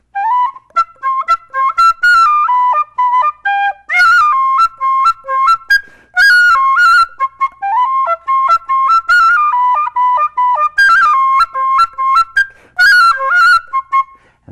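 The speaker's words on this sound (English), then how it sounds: "the young fellow took out his whistle and started to play a tune." A tin whistle plays a lively tune up close, a string of clear bright notes in quick phrases with short breaths between them.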